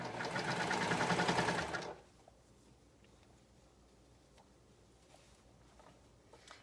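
A sewing machine runs in one loud continuous burst while stitching a swimsuit, then stops abruptly, leaving a quiet room with faint small handling noises.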